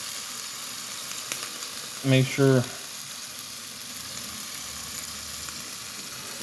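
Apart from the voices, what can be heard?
steak quesadilla sizzling in pan on stove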